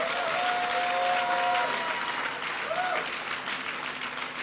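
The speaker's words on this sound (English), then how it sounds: "Can we get a louder applause, please?" An audience at a university onboarding and matriculation ceremony gives sustained, dense applause that fills the hall, with brief tonal sounds over it and the clapping easing slightly toward the end.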